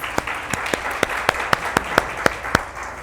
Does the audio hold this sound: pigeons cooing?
no